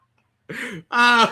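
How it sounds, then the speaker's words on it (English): Two short, rough coughs from a man with a throat issue, in quick succession, the second louder and more voiced, close to the listener with silence before. "If I didn't have this cough, goddamn it."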